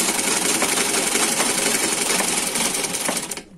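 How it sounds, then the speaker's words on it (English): A sewing machine stitches a straight seam down a pair of trousers in one continuous, loud, close burst of rapid needle clatter that cuts off abruptly at the end. "I'll stitch it like this, straight down"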